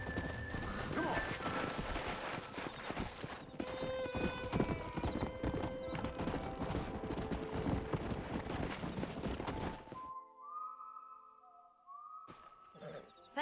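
Horse hooves clip-clop steadily in the Red Dead Redemption video game, a dense run of hoofbeats that stops suddenly, followed by quieter game tones and a brief horse whinny near the end.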